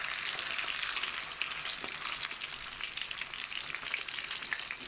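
Fish frikkedelle (fish cakes) frying in a pan, a dense, steady sizzle and crackle of hot oil close up, with no voices over it.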